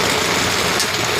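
Heavy rain falling in a dense, even hiss that fills the whole moment, loud and close with faint engine-like rumble underneath and no voices.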